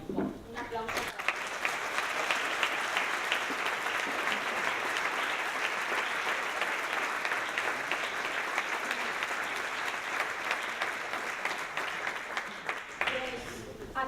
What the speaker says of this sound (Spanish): yo pediría un fuerte aplauso para todas esas personas que trabajan día a día